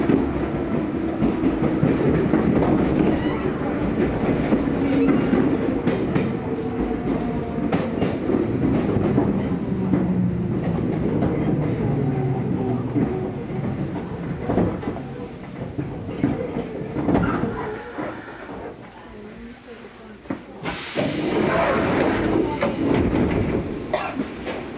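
A Nankai 6000 series electric train, set 6003, runs on the Senboku line semi-express from Tengachaya toward Nakamozu, heard from inside the car as a steady rolling rumble with rail clatter that dips briefly before the noise swells again.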